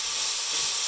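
Sliced carrots and pointed cabbage hit a super hot pan for yakisoba, giving a steady, loud, bright hiss of sizzling that holds level throughout the brief moment.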